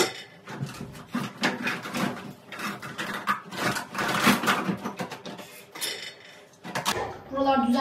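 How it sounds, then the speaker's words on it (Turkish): Dishes being put away in a home kitchen, with clinks of plates and cutlery and knocks of cupboards and drawers in a busy irregular clatter close by, while someone talks throughout. "ben bulaşıkları daha yeni yerleştiriyorum"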